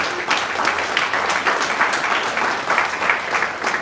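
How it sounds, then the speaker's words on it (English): Audience clapping at a gathering, a dense, steady patter of many hands held at an even level for a few seconds. "Clap for them."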